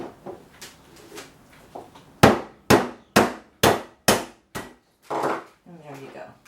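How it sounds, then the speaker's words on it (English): A series of about eight sharp, heavy hammer blows smashing lobster claws, evenly spaced and loud, after some quieter handling and rustling. "I'm going to take a hammer and smash it."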